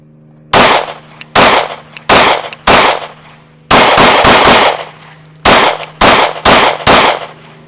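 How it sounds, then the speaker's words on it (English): A Kimber R7 Mako compact pistol fires about a dozen loud, sharp rounds close by at a range, some spaced apart and others in quick strings. "Let's go ahead and put a few rounds down range."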